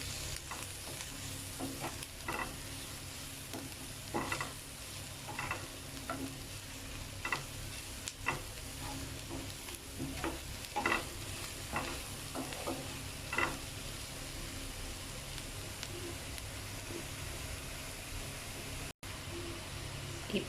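Paneer sandwich filling gets stirred in a hot pan, with scraping spoon strokes over a soft steady sizzle; the strokes come in irregular bursts and stay fairly quiet throughout.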